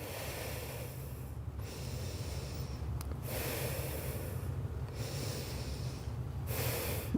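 Steady, heavy breathing while holding a plank during a physical education workout, rhythmic snorting breaths with short pauses, close and fairly quiet, with no talking.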